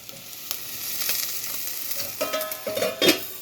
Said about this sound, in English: my corn is indeed popping